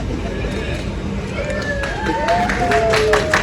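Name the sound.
wedding guests applauding and cheering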